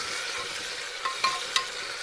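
Chopped tomatoes and coriander frying in a pan for a pumpkin curry with green chilli, garlic and chana dal, a steady soft sizzle broken by a few brief scraping clicks of stirring.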